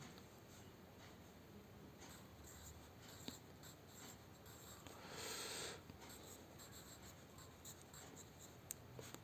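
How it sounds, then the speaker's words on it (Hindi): Pen or marker writing a heading on a thematic map of Chhindwara district, a steady soft scratching that continues throughout, close and quiet, with no talking. "इसकी हेडिंग जो है वो हम यहाँ पर लिख लेंगे छिंदवाड़ा"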